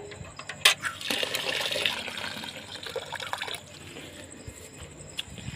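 Water splashes and streams into a container being filled for a goat, with a sharp knock at the start and a steady rushing pour that eases to a softer trickle.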